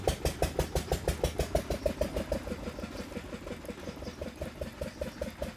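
A farm engine-driven generator runs steadily nearby, its rapid, even thumping pulse chugging on like an idling single-cylinder motor with no voices over it.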